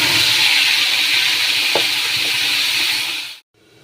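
Spice paste hits hot oil in a pan with a loud, steady, close sizzle that holds for about three seconds, then cuts off abruptly into near silence.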